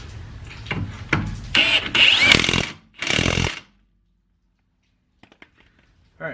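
A power tool drives a bolt into a rear sway bar end link on a Ford Fusion or Mercury Milan. It runs in several loud, close bursts, then falls silent, with a few faint clicks of handling afterward.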